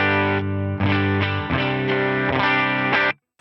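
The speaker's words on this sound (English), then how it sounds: "I've dialed in some delay and some ambient reverb and then this dynamic bloom." A clean electric guitar tone runs through a Line 6 Helix with a US Small Tweed amp model, delay, ambient reverb and dynamic bloom. About five strummed chords ring out in sequence with a smeared, swelling sustain before they fade to silence.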